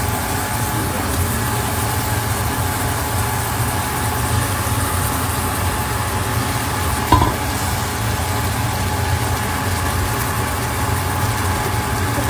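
Fish frying in hot oil with spices gives a loud, steady sizzle throughout, with one brief clatter partway through.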